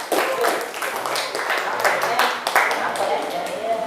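A classroom group applauds together during a teacher-training lesson on Mendel's laws, a steady, fairly loud wash of overlapping claps running the whole time without a break.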